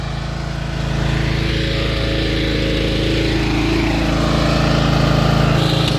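A Craftsman LT1000 lawn tractor engine runs steadily, a loud close droning rumble that swells slightly after the first second and holds even throughout, with no speech.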